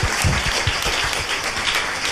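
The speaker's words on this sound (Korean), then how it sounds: "손으로 박수" A room full of people applauds, a dense and steady clapping that stays fairly even throughout and is heard alone with no talking.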